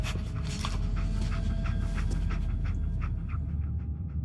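Dogmeat, a dog in Fallout 4, panting close by in quick, rhythmic breaths over a low background hum, with no talking.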